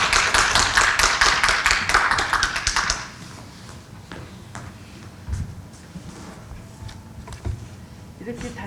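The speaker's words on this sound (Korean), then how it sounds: "강사님 나오실 때 박수로 환영하도록 하겠습니다." An audience at a church lecture on Korean history claps to welcome the lecturer. A dense burst of applause lasts about three seconds, then dies away into a quiet room with a few scattered taps and rustles.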